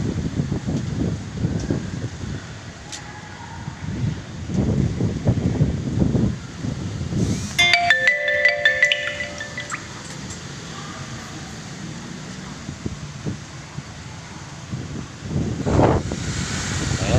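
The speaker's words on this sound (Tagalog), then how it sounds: "ang hangin din naman masyadong malakas" Steady wind from a weakening typhoon in Cavite buffets the microphone in rough gusts, a continuous roar that rises and falls throughout, with a few faint clinks partway through.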